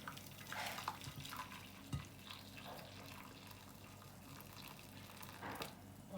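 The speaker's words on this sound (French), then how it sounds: "Je vais mettre l'eau chaude" Hot water pours into a large cake mold to make a water bath, a soft and steady trickle and splash heard up close, faint and with no talking.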